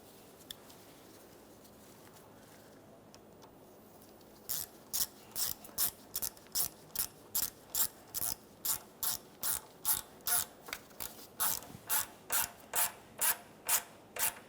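A ratchet tightens a hose clamp on a 2004-2008 Ford F-150 power steering reservoir hose. After a few quiet seconds, about twenty crisp, evenly spaced clicking strokes come close up, with no speech.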